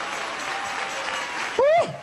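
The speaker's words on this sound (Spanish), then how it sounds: "Dale ese aplauso a Jesús." Broad applause from a church congregation fills the space steadily, then a voice cuts in loudly near the end over the dying clapping.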